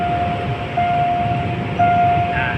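A steam locomotive runs along the railway on a holiday excursion, giving a loud, close, continuous rumble. A thin, steady tone rises over it at intervals, with no talking.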